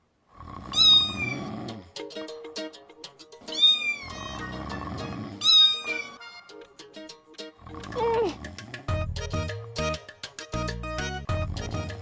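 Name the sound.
voice imitating a cat's meow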